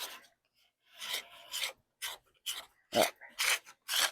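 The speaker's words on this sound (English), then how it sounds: "Then you can take some sandpaper." Sandpaper rubbed by hand along the edges of a wooden desk, a series of rasping strokes in short bursts with brief pauses between, close and clear.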